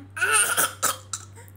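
A voice imitates a grandmother coughing, giving two or three short, close coughs with a throaty onset in quick succession.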